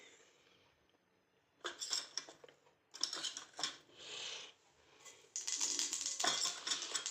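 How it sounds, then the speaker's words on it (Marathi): Spices tempering in hot oil in a pan on a gas stove, crackling and spitting in uneven bursts that swell louder toward the end, close by with no talk. "फोडणी तडतडलेली आहे"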